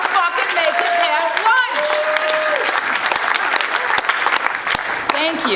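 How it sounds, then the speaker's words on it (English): An audience at a Narcotics Anonymous convention in Kalamazoo, Michigan applauds steadily, with sustained clapping throughout and some cheering or voices mixed in over it. "Can we all stand up and give ourselves and our higher power and Narcotics Anonymous a round of applause?"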